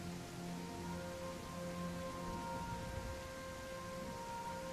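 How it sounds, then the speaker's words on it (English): Heavy rain from a storm falls steadily as a constant, even hiss of drops with a low rumble, continuous and unbroken, with a faint tonal hum underneath. "That's a lot of rain. Very heavy rainfall, actually, this time around."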